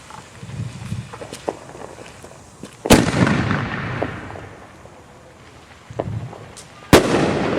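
Large consumer firework mortar shells bursting outdoors, two loud sharp booms several seconds apart, each with a rumbling, crackling tail, amid quieter background noise.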